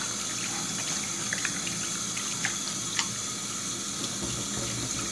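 Chicken gizzards are washed under running water in a kitchen sink: a steady, close, continuous splash of tap water with small irregular splatters, no talking.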